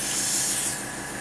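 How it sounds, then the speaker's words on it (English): An airbrush spray gun that is not fully clean hisses steadily while spraying metallic acrylic paint, spitting small gobs. The spray runs loud for most of a second, then drops to a softer hiss. "this spray gun at this point is not super clean, but it is definitely spitting some gobs out there"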